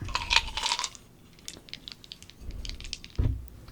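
Polyhedral dice, a D4, D6, D8 and D12, are rolled and tumble with a short clatter of clicks, then settle; a few isolated taps and knocks follow up close, with no talk.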